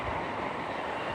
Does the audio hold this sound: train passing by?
yes